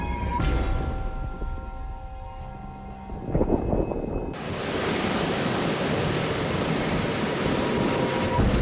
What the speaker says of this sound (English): Storm Babet slammed Scotland's coast with towering waves as high as buildings